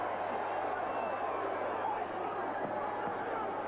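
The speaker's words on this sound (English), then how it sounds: "This crowd in a frenzy, most of them standing." A boxing arena crowd roaring in a frenzy, most of them on their feet, a dense continuous wash of cheering and shouting with a commentator talking over it.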